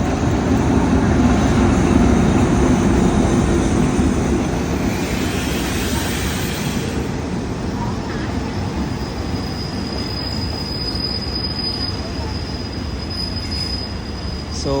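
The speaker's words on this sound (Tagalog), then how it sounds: "So ayan na guys yung train." A long SRT train rolls into a station in Thailand, loud continuous wheel rumble and rail clatter with high brake squeals rising toward the end, close and unbroken.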